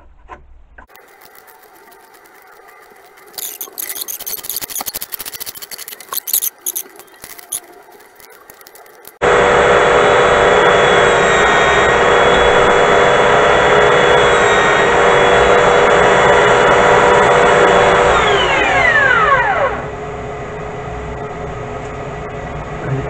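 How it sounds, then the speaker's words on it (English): Belt sander running steadily on small painted wooden banister pieces for a 1:12 scale miniature Tudor house, loud and continuous for about ten seconds before winding down, after a softer stretch of intermittent workshop noise. "Put them through the belt sander quickly"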